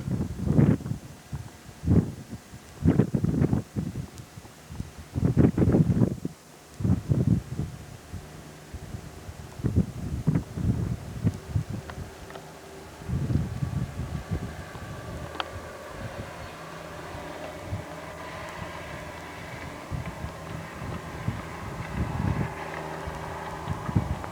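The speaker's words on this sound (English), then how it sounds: "Wind blowing through this little passage here" Wind blowing through a narrow rocky passage near Pierre Grey's Lakes, Grande Cache, heard as uneven gusts and buffeting rumbles against the microphone that settle into a steady low rush, close and fairly loud, with no voices.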